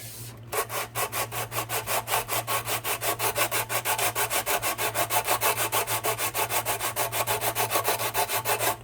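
Steady rapid back-and-forth rasping of a wooden guitar bridge being shaped by rubbing on an abrasive surface, dozens of even strokes close up over a constant low hum.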